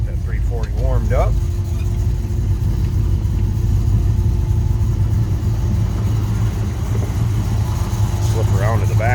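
A warmed-up 340 V8 in a 1970 Dodge Dart idling, a loud, steady low rumble that runs throughout, with a voice talking briefly over it at the start and end.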